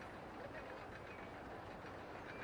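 A roller coaster train in the OpenRCT2 video game gives a steady, dense rumble with faint clattering, continuous and unchanging throughout the short span.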